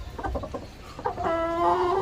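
Chickens cluck close by in a pen alongside a rooster, with a run of short rhythmic clucks followed by a longer, drawn-out tonal call.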